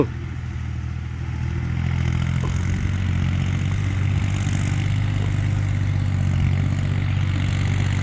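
New Holland farm tractor engine running at a dirt-hauling job, a steady loud low diesel rumble that rises slightly and then holds constant, with no voices.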